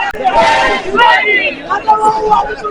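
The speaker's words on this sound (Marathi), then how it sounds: "ह्या फेरीचा निकाल ऐकल्यानंतरच कार्यकर्त्यांमध्ये एकच जल्लोष आपल्याला बघायला मिळतोय" Party workers at a Sinnar election count cheer and shout in celebration as a round result is announced, a loud, close crowd din of overlapping voices.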